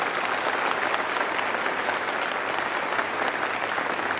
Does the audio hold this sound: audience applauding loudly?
yes